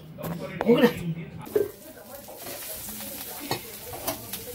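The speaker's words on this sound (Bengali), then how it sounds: "পেঁয়াজ দিয়ে আলু ভাতে মাখা হবে বলে পেঁয়াজ ভাজা" Onions sizzle in a frying pan, a steady hiss broken by a few clattering stirs and scrapes near the start, close and moderately loud.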